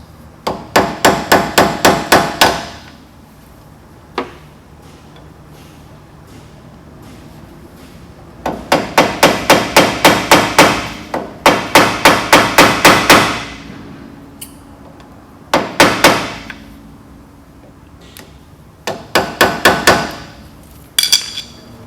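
Metal hammer blows drive a blunt screwdriver into a brake lock nut during a big brake installation on a van. The strikes come in loud, rapid bursts of about eight to ten, separated by pauses and a few single taps.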